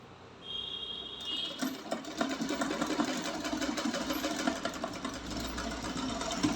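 A sewing machine stitches a pillow cover with a steady, rapid mechanical hum and needle clatter, close and continuous after a brief quiet start, with no talk.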